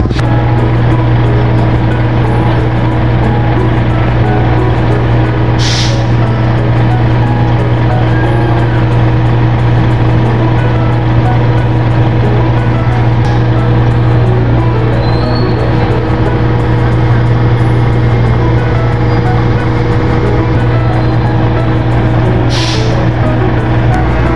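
Vehicles drive off a ferry arriving from Romblon Island as a loud, constant engine drone fills the air, with a steady low hum and a couple of brief hissing bursts like air brakes.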